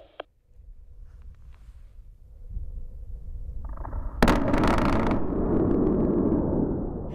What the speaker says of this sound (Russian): Внимание всем постам, я взрываю.